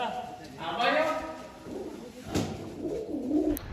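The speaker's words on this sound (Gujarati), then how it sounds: "કુવામાં કબૂતર બોલા." Pigeons coo inside a well, their soft, rolling calls echoing close by under a voice, several throaty phrases over about four seconds.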